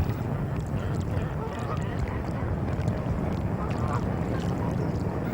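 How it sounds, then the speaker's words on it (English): Ducks, including tufted duck and pochard, quack intermittently on Walthamstow reservoirs over a steady, low outdoor rumble, with a voice speaking throughout. "Once the ice has melted, the ducks return."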